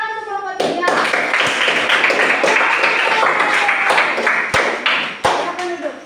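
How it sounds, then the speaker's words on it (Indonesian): Classroom applause for a group of students, a burst of many hands clapping steadily for several seconds, loud and close, with a few voices mixed in. "Tepuk tangan untuk kelompok 3"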